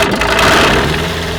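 A light aircraft's propeller engine starts and settles into idle, producing a loud, close, rough mechanical roar over a short burst with no talk.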